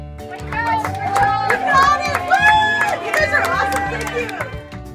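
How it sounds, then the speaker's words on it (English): St. James Elementary students cheer Class of 2016 graduates at a grad walk at Bishop Carroll High School. Young voices shout and chatter steadily, forming a lively, close crowd without a break. "Students came over to Bishop Carroll High School from St. James Elementary to cheer our graduates on."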